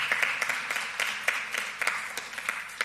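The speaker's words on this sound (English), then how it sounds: "Another round of applause." An audience at an education oversight committee press conference applauding, a steady run of many hands clapping at moderate distance, with no voices over it.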